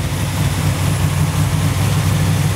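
Engine idling steadily on a freshly rebuilt Holley 4150 Brawler carburetor, a loud, even low rumble with a continuous throb and no talk over it.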